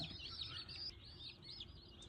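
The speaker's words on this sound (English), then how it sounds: "These are the Cornish cross meat birds." Cornish cross meat bird chicks, all males, chirp continuously in a high, busy chorus of overlapping peeps close up, over a low rumbling background.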